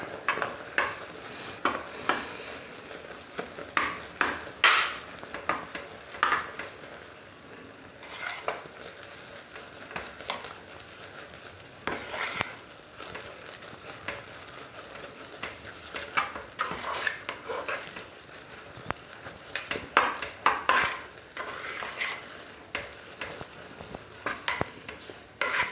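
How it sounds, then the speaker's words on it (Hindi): Rice flour gets stirred into water in a pan over a lowered flame, with repeated scraping and clinking of a utensil against the pan and a soft sizzle underneath, continuing irregularly throughout. "तो फ्लेम कम करके अब इसको इस तरह से मिला देंगे पानी में"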